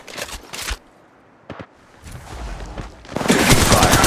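Gunfire and combat effects from the battle royale video game Apex Legends Mobile, with short bursts of shots early on and a loud, dense barrage of firing and effects building toward the end.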